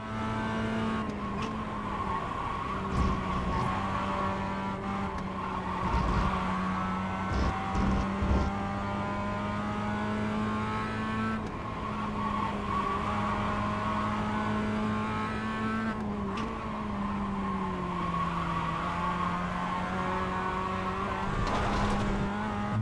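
Race car engine in a racing video game, holding a steady high drone through gear changes and revving, with bursts of tire squeal on corners across the lap.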